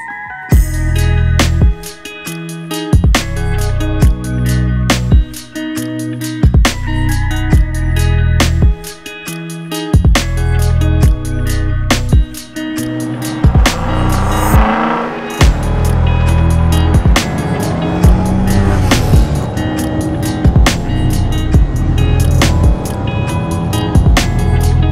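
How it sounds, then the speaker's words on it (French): A car's engine hums steadily while cruising sunny, winding roads, loud and continuous with a sustained drone, regularly broken by sharp thumps. Busier road and wind noise takes over toward the end. "Voilà pour ce petit tour de voiture"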